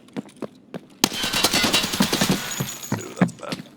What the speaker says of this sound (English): Somebody just shot at us from inside residential, I think.